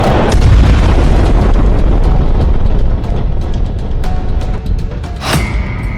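Bombing explosions from an air force strike in southern Lebanon: a loud, dense booming rumble fills the first three seconds, then continues as lower rolling blasts with a sharper burst near the end.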